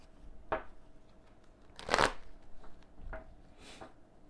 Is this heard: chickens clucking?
no